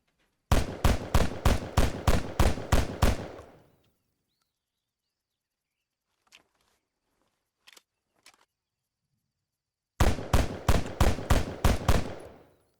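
Flintskutgewehr Kort DMR rifle from a Danish Defense Forces mod for the Arma 3 video game firing two rapid strings of about eight sharp, loud shots each, separated by near-silence and a few faint clicks.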